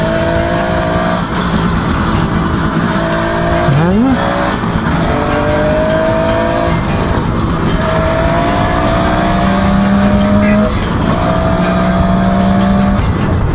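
A Kawasaki 500SS motorcycle cruises a spring road into town, its engine holding a steady, loud tone with a brief rev change and wind noise, while the rider talks over it.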